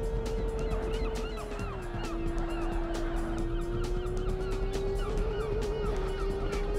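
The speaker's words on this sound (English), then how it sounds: "I really like that seagull sound effect" Seagull cries from the Porsche Challenge racing video game, repeated squawking calls heard under a steady droning car engine tone.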